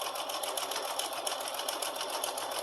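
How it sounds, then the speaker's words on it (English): A sewing machine stitches binding onto the corner of a holiday quilted wall hanging, a rapid, even mechanical whir and chatter heard up close and alone for a few seconds. "I'm going to sew right onto that corner"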